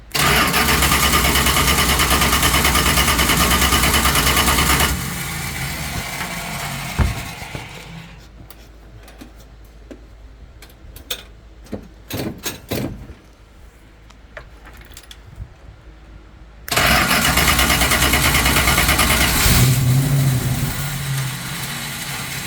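A 1971 Plymouth Cuda with a 440-6 engine, a barn find, cranks loudly and steadily for about five seconds, then goes quiet amid scattered clicks and knocks, and cranks hard again near the end.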